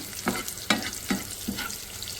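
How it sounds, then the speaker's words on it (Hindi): Onions sauté in about two tablespoons of oil, a soft continuous sizzle broken by four evenly spaced scraping stirs of the spoon in the pan, close and fairly quiet. "प्याज को हम अच्छा सा सोक कर लेंगे पहले इसके अंदर।"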